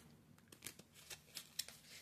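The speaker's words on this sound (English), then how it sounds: "There's so many cards. It's hard for me to shuffle." A deck of tarot cards being shuffled by hand, a few soft riffling and sliding strokes, close but quiet, with no talking.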